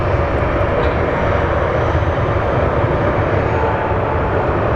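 A Frontier airliner in special livery roars steadily at Phoenix Sky Harbor airport, a loud continuous engine rumble with no talk.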